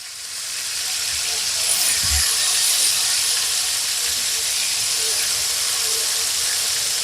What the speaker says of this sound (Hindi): अब चिकन को इसमें अच्छी तरह जो है ना पकाएंगे, फ्राई करके बाहर निकाल लेंगे।